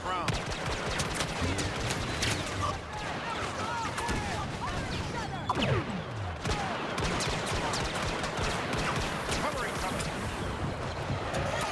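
An orbital strike barrage in Star Wars: Battlefront: a dense, continuous barrage of booming blasts and rapid gunfire rattles on without pause, loud and chaotic, with a voice briefly audible beneath the din.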